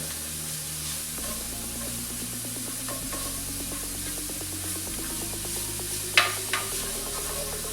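Food sizzles steadily in olive oil in a hot pan, a continuous crackling hiss up close with a couple of sharp clinks near the end, no talking.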